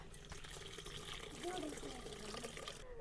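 Tamarind water being poured into a curry: a faint, steady splashing and trickling of liquid, partly masked by people talking nearby.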